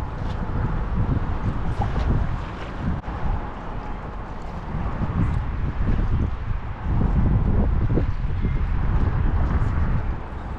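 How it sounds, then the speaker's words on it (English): Strong, steady wind roars and buffets the microphone out on grass flats during a fishing trip, a constant loud rush with gusts swelling around the middle and toward the end, no talking. "even with this much wind down here"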